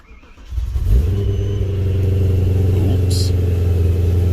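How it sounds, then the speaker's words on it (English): A supercharged BMW M3 engine cranks and catches after a quiet half second, then settles into a steady, loud idle with a rich low drone, close by. "Start, and it started right away."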